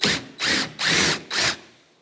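Power drill backing screws out of the top box of a John Deere Amazon cane mill during restoration: four short, loud whirring bursts in quick succession, each about a quarter second, separated by brief pauses, close up.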